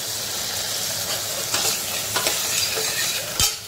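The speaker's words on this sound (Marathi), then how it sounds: "त्याच्यामध्ये आलं लसूणची पेस्ट, व्यवस्थित आपण परतून घेऊया" Onion, tomato and ginger-garlic paste are sautéed in a hot pan with oil for a black chickpea curry. A steady hiss of frying runs throughout, and a few sharp scrapes and clinks of a spatula come near the end, with no talk.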